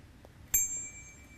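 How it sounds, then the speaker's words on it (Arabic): A single bright ding as a bell is pressed, a sharp strike with a clear ringing tone that fades over about a second against a quiet room. "شوف الجرس."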